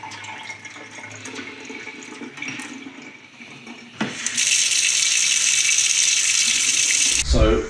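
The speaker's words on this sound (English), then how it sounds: "So what I'm doing is measuring all the flow rates of the taps." Taps run at full flow into a sink while flow rates are measured after converting a home to a mains pressure plumbing system, a steady loud rush of water starting midway after quieter background noise and handling sounds, then stopping with a clunk.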